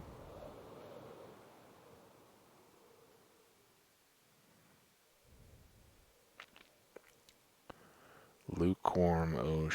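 Soft ocean surf and wind wash gently through a Minecraft ocean biome, fading gradually, before a few sharp clicks and a louder burst of game sound near the end.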